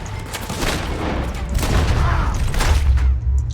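Dense shootout gunfire in Red Dead Redemption 2, with rapid overlapping shots and booms building into a loud, continuous fusillade for several seconds, no voices over it.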